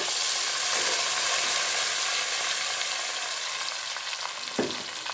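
Ground masala frying with sprouted green gram in a hot pan, a steady close sizzle and crackle running throughout, with a brief stirring clatter near the end and no talking.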